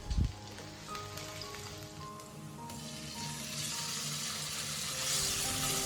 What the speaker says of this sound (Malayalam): അപ്പോൾ അതിലേക്ക് ഒരു പാനിൽ കുറച്ച് ഗാർലിക് ഇട്ടിട്ടൊന്ന് വഴറ്റിയെടുക്കുകയാണ്.